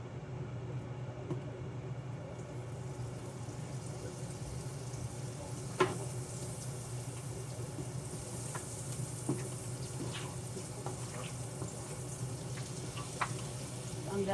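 Butter sizzles in a frying pan with a steady, soft crackle, accompanied by occasional small clinks and taps throughout.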